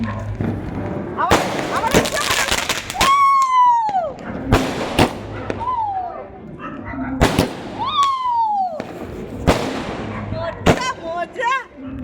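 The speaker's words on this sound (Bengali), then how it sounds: "আমার ছেলে বাজি ফুটাবে বলে ছাদের উপর উঠেছে।" Firecrackers bursting from a rooftop during Kali Puja celebrations, a series of loud sharp bangs and crackles, some followed by whistling rockets, with people talking and voices underneath.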